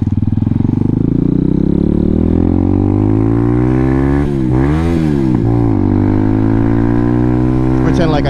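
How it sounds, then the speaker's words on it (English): An RPS Hawk 250 motorcycle engine revs up and down, a loud close rising and falling drone that dips mid-clip before climbing again, heard alone with no talking. "Pretend like I did that rev bomb on purpose"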